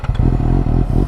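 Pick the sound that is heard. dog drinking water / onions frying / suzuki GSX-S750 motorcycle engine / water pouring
suzuki GSX-S750 motorcycle engine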